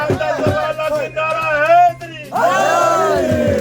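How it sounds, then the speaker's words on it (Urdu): A crowd of kite flyers at a Basant festival chanting Pakistan Zindabad in loud, ragged unison, voices rising in bursts of shouted slogans close by. "تمام پتنگ بازوں نے یک زبان ہو کر پاکستان زندہ باد کے فلک شگاف نعرے فضا میں بلند کیے"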